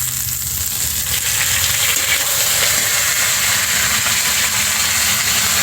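Ginger paste frying in a pan with browned cauliflower pieces, a steady, loud, close sizzle that holds unbroken throughout with no voices.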